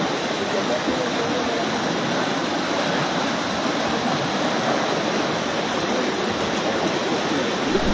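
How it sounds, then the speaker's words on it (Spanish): Flood water rushing through a residential area of Guantánamo, Cuba, where a river has burst its banks; a steady, loud, dense roar of fast-moving water continues unbroken throughout. "Está cayendo agua en Guantánamo, pero de verdad."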